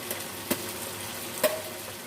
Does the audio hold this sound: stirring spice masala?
yes